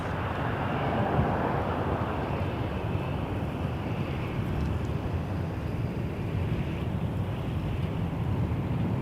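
A WestJet Boeing 737-800 airliner at Toronto Pearson Airport gives off a steady, broad jet roar at a distance, constant and unbroken, mixed with wind buffeting the microphone.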